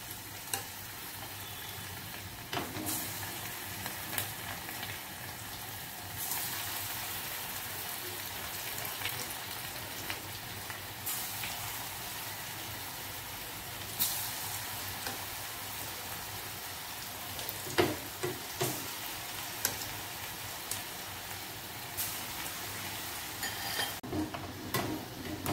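Moong dal bhaji deep-frying in hot oil give off a steady, quiet, rain-like sizzle. Occasional soft clinks and scrapes from stirring break through the sizzle, and no one speaks.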